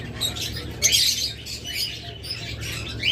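Lovebirds for sale give sharp, high chirps and squeaky twitters in scattered bursts, near and moderately loud above a low steady hum.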